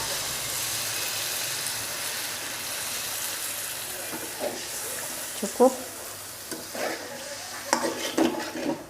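Beef tongseng being stirred in a cooking pan, with scattered scraping and clinking of a utensil against the pan over a soft background hiss; a voice speaks briefly.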